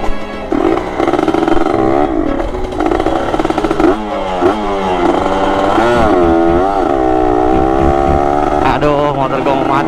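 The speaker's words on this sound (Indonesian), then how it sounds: "Motor gua mau mati guys." A Kawasaki ZX-10R motorcycle engine runs loud and rough, sputtering as if about to die, its pitch wavering and stuttering as it struggles, heard up close.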